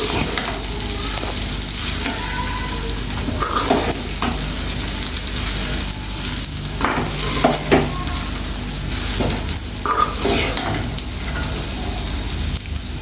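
Potato rice frying in a pan, a steady dense sizzle with occasional scraping stirs, close and even throughout, no talking over it.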